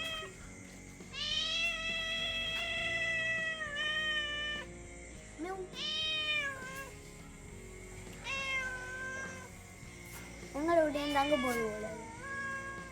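A cat meows repeatedly up close, long wavering cries spaced a few seconds apart, some rising into a strained caterwaul, with a person's voice talking in between.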